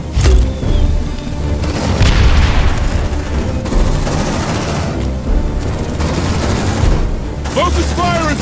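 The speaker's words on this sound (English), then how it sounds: "Grenade!" Grenade blasts and heavy gunfire in the game Aliens: Dark Descent, loud booming explosions and dense rattling automatic fire close and nearly continuous, with shouting voices mixed into the chaos.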